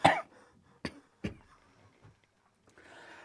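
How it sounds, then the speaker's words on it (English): A few sharp coughs close to the mic, three distinct bursts spaced apart, followed by quiet and a faint rustle. "Let me cough."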